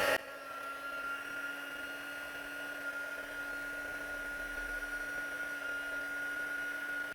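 Heat tool blowing hot air to melt silver embossing powder on a card, a steady loud whirring drone with a high whine that runs unbroken, starting after a brief bump.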